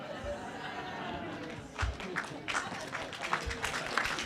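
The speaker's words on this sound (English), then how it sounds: "That's the first time I've gotten bad applause for it, too." A conference audience gives a short, scattered burst of applause after a pun in a talk on marijuana legalization, light clapping rising partway through and thinning out, with some crowd murmur.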